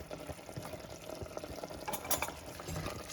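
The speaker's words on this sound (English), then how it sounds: "Stir it well." Mutton biryani being stirred after yogurt and lemon juice go in, with steady soft wet scraping and bubbling of the thick mixture in a pot over about three seconds, moderately close and without talk.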